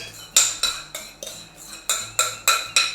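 A whisk clinks briskly against a bowl of chocolate mousse mixture, about ten sharp metallic strokes in a steady rhythm, close and alone with no talking.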